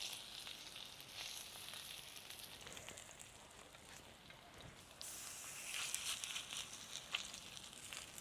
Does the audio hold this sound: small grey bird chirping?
no